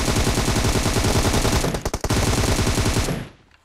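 Rapid automatic gunfire from a mobile shooting game fills most of the clip, loud and sustained with a brief gap near the middle before bursts resume, then cutting off abruptly at the end.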